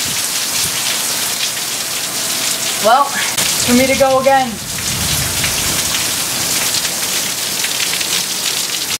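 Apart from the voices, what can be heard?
rain falling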